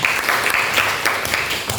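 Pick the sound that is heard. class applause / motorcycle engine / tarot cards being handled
class applause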